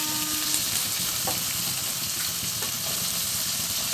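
Steady sizzling and crackling of onions, chillies and curry leaves sautéing in hot oil for cauliflower egg poriyal, with a few soft stirring scrapes, close and continuous.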